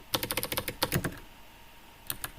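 Fingers tap quickly on a computer keyboard in close, crisp bursts, a rapid run of keystrokes, a pause, then a few more taps, with no voices.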